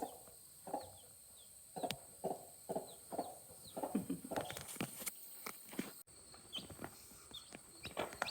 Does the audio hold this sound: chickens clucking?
yes